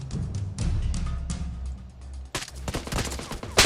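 Gunfire in a PUBG Mobile match, with the player's own gun fitted with a suppressor; quick repeated shots crackle in bursts, steady at first and then sharper and louder after a brief dip.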